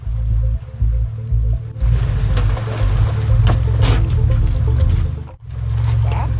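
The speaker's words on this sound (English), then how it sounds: "my skid plate over my fuel tank scraping on a large rock." A vehicle engine drones steadily while a skid plate over the fuel tank grinds and scrapes on a large rock on an off-road trail, with a brief dip before the engine continues.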